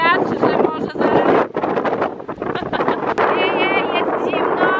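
Strong seaside wind buffets and roars across the microphone in loud gusts while people talk over it.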